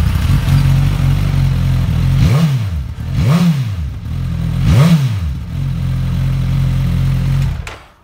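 A 2016 Suzuki GSX-S1000S motorcycle engine idles loud and close with a rough throb, then blips the throttle three times in quick rising-and-falling revs before cutting off at the end.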